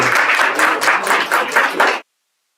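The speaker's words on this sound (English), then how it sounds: "One more round of applause" Audience applause after a patriotic Hindi song at a live corporate Independence Day event, loud rhythmic clapping in waves that stops abruptly.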